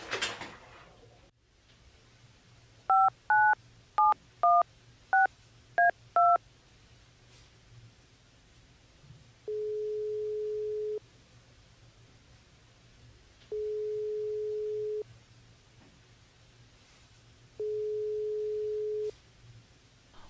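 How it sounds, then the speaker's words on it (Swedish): A telephone is dialed with a quick series of touch-tone beeps, followed by three long, evenly spaced ringback tones while the call goes unanswered. The line is quiet between tones, and no one speaks. "Jag ringer till Maggan."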